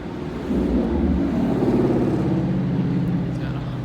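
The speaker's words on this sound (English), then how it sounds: "I read the engine up too." Car engine revving: a steady low rumble that swells a little louder after the start and holds.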